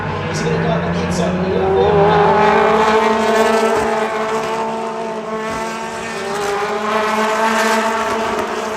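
BTCC touring cars, including a BMW, race into a left-hander at Silverstone. Loud, sustained engine howl with pitch shifts as the cars brake and accelerate through the corner, and a commentator talks over the noise.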